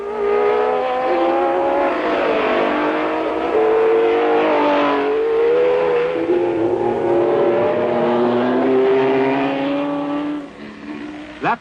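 Formula One racing cars roaring around the Nürburgring, high-pitched engines howling and shifting through gears as cars pass nose to tail, loud and continuous with revs climbing and falling.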